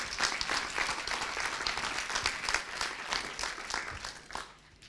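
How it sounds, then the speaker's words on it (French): Audience applause for a minister at a closing event on equality, a dense continuous clapping from a large indoor crowd that holds strong and then tapers off at the end. "je crois qu'on peut vous applaudir"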